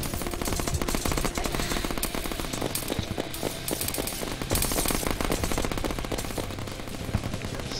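Dense, rapid bursts of gunfire from the video game Terraria rattle on nonstop at close range while a fight against Krampus and Santa enemies above a house plays out, with no talking.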